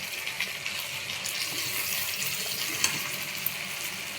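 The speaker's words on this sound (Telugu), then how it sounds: "ఒక 2 గ్లాస్ వాటర్ పోస్తున్నానండి" Two glasses of water are poured into a simmering tomato curry with dried red chillies, giving a soft continuous watery rush over a faint sizzle, with a couple of small clinks.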